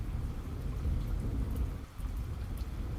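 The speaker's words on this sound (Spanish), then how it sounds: "ya que en ese momento comenzó a llover" Steady heavy rain with deep rolling thunder, loud and continuous throughout with no voices, during a stormy night.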